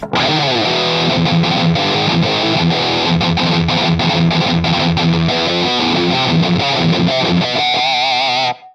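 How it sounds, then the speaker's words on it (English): Heavily distorted electric guitar through a Boss Metal Zone distortion model plays a dense, saturated riff with chords and fast notes, loud and continuous for several seconds before cutting off. "My favorite, the Metal Zone Distortion. Yeah, this sounds like a Metal Zone."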